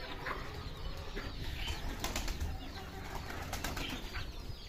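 A burst of flapping wings as several pigeons take off together, fluttering steadily for a few seconds at close range.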